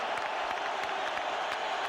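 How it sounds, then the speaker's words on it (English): Boxing crowd at a heavyweight title fight between Lewis and Klitschko booing a controversial decision, a dense, sustained roar of voices filling the arena without a break. "Listen to the boos."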